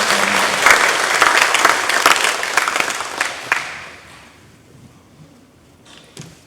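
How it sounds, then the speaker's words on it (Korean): A church congregation at a Sunday worship service claps loudly for about three and a half seconds, then the applause fades out into a quiet room with a few scattered sounds. "영광의 박수 올려드리겠습니다"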